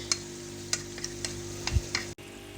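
Masala for Punjabi chicken karahi fries on high flame with a soft continuous sizzle, a handful of bright spatula clicks against the pot, and a low thump near the end; no voices.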